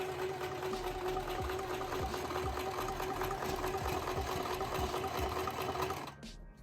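A sewing machine runs a continuous zigzag stitch along a stretchy dress hem, a steady rhythmic mechanical chatter at moderate level that stops abruptly near the end.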